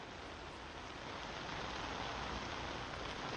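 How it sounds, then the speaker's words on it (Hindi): Rain and hail fall steadily on an open road at the farmers' protest camp on Delhi's Singhu border in cold weather, a uniform, dense hiss of precipitation without pauses or voices. "सड़क का बिछौना है, खुला आकाश है और उस पर बारिश और ओलों की बरसात"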